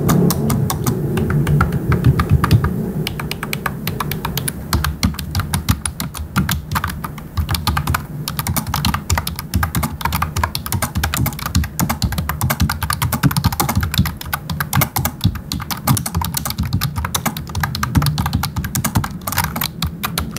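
Continuous fast typing on an Altec Lansing ALBK6268 full-size computer keyboard with wide keycaps, a dense run of close, crisp key clacks and taps that keeps going without pause, with no speech.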